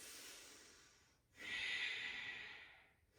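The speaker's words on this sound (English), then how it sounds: "Deep Ujjayi breaths." Deep Ujjayi breathing during a yoga flow: a soft, airy breath close to the mic, followed by a longer, louder hissing exhale that slowly fades, with no other sound around it.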